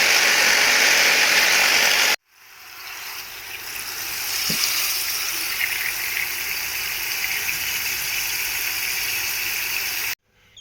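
Gemstones from a Southland New Zealand beach get a wash in water, a steady rushing, gushing sound running loud and continuous after a brief cut, with faint clinks beneath and no voices.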